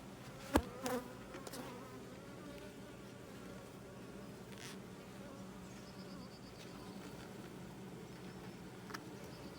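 Honeybees fan inside a hive box around a newly introduced queen, making a steady, dense insect hum that fills the whole stretch. A few louder knocks come near the start, with no talking.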